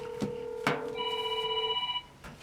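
A telephone rings on a call with steady electronic ring tones, a sustained tone and then a higher chiming ring pattern, moderately quiet with faint clicks and background hiss.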